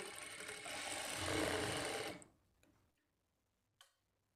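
A sewing machine stitches a blouse dart in a steady ticking run for about two seconds, then stops, leaving quiet with a few small clicks and one brief knock near the end.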